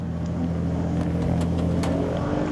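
Formula Renault racing cars drive into the pits with a steady, loud engine drone and occasional sharper revs, a continuous mechanical roar with no clear pauses.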